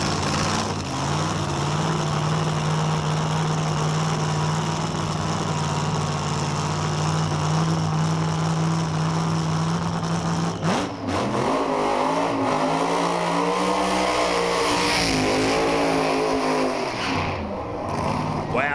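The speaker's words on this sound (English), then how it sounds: "John Connerly, about to come forward in the Nova LED funny car." A top alcohol funny car engine at a drag race, Adelaide International Raceway, holds a loud steady idle, then roars and revs through rising and falling pitch, with a commentator talking over it.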